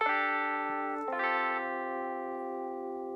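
A single keyboard note sounds loud in beat-making software, with bright, buzzy harmonics and a slight chorus-like shimmer, re-struck once and left to sustain evenly for a few seconds with no talk over it.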